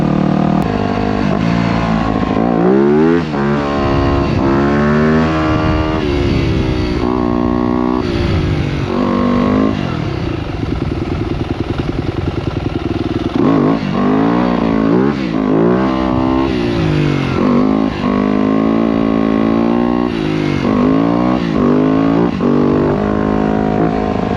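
A dirt bike engine revs and roars continuously up close, pitch rising and falling with gear shifts and throttle bursts, loud throughout.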